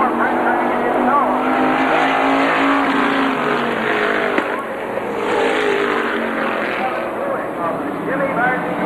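Several race cars roar around an oval track at Airborne Raceway during a 1990 trophy dash, engines snarling and fluctuating as they pass, with a commentator talking over the steady noise.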